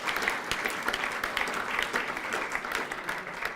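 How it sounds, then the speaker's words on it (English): Sustained, dense audience applause for dog foster volunteers at a 2013 assistance dog graduation ceremony, a full crowd clapping steadily and fairly close throughout. "A big round of applause for everyone who's taken dogs home."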